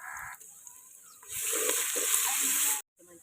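Onions and garlic hit hot oil for a village-style mutton talakaya curry, bursting into a loud close sizzle after quiet kitchen sounds. The sizzle then cuts off abruptly.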